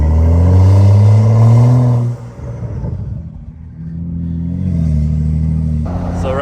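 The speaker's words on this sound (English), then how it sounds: "Damn, that intake sounds good." Mercedes-AMG GT with a large carbon fiber wing revs loudly through its intake, a deep rising engine roar in the first two seconds, then dropping to a rumbling cruise amid busy rush-hour highway traffic on the 95.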